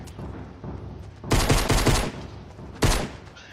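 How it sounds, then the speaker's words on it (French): A burst-fire gun in Fortnite shooting two loud, close rapid bursts, a longer one first and then a short one, over faint game background noise. "Ah bah non, c'est un flingue à rafale."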